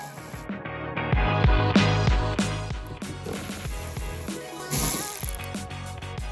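A hand ratchet backs screws out of a junkyard car, a rapid clicking pawl in quick bursts with short pauses between turns, close and clear.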